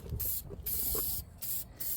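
Aerosol spray paint hisses onto a Dodge Dakota lower control arm in several short bursts separated by brief pauses, close and fairly loud.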